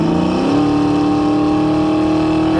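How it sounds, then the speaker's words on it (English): A 1991 Ford Mustang LX coupe with a 5.0 V8 and automatic transmission downshifts on a test drive, the loud engine note dropping then settling into a steady, close drone inside the car. "There's that downshift again."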